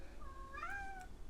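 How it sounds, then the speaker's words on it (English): A pet cat lets out a single drawn-out, wavering meow-scream of about half a second, faint and off in the background of a quiet room. "apologies that our cat is screaming in the background"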